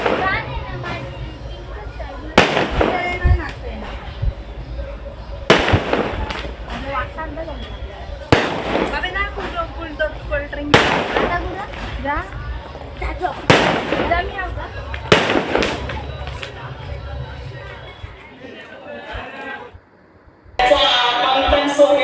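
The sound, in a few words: firecrackers bursting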